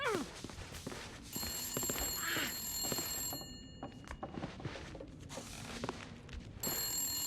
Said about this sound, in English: Where's the phone? Stop ringing.